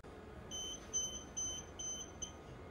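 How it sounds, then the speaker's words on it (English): Repeated electronic beeps from a FloorCure2030 UV curing lamp signalling that it is too far from the floor surface, about five short bright tones in a steady rhythm over low background hum. "When dist is shown and a beeping signal can be heard,"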